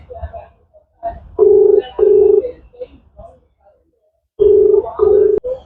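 Telephone tone after a hung-up call comes as repeated steady beeps in pairs, loud and clear, with a voice talking in between.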